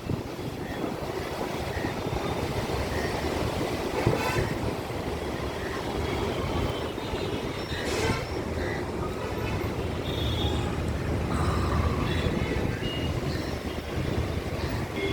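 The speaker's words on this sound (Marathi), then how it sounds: "वनासकडे जाणारी मेट्रो आपल्याला दिसत आहे" A Pune metro train heading toward Vanaz runs along an elevated bridge, giving a steady, loud broadband rumble and rush that carries on without a break.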